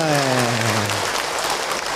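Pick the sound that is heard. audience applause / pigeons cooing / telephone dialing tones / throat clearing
audience applause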